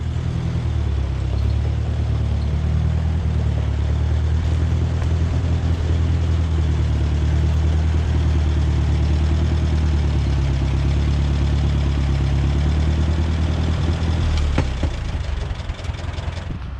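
A 1955 Ferguson 35 tractor engine idles steadily nearby, with a deep, throbbing low rumble that stays loud and even, then eases slightly near the end.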